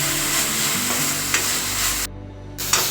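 Fresh mint leaves sizzle steadily in hot oil in a pan while being stirred, a close, bright crackle that cuts out briefly before resuming.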